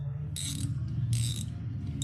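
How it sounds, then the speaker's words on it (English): Ratcheting bezel on an Armour 48 chronograph watch being turned by its screws, giving two short bursts of crisp clicking over a steady low hum, fairly close and moderately loud. "so you can grab the screw to turn the bezel"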